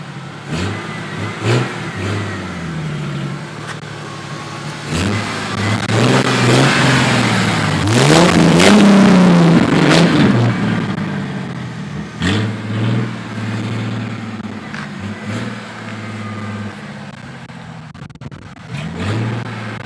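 Engine of a 1995 Ford Thunderbird with its muffler deleted revs repeatedly, rising into a loud, throaty peak mid-clip and then settling into shorter blips and a rumbling idle nearby.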